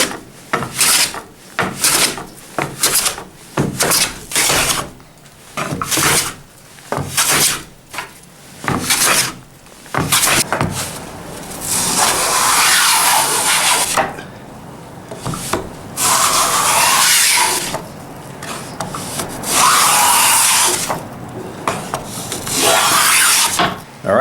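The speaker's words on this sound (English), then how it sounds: "get some of these boards planed down" Red cedar boards fed through a planer in a woodworking shop, bursts of loud rasping cutting noise separated by short gaps, then longer sustained passes, close up with no speech.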